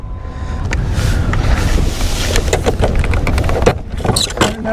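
A fishing boat motor on Lake Chickamauga starts up and runs with a loud, steady rumble, mixed with rushing wind buffeting the microphone and scattered clatter throughout.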